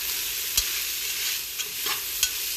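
Onions and beef stewing in a cooking pot sizzle steadily up close, with a spoon scraping and stirring that produces several distinct soft knocks, and no voices.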